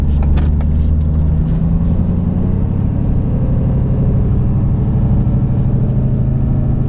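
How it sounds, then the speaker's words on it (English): A Ford 6.7 Powerstroke pickup pulls away gently uphill under light load, its diesel engine rumbling low and steady as it shifts from first to second gear, a continuous close drone with no talk. "I'll let you guys see the first to second shift. Okay, so here I'll ease on the gas."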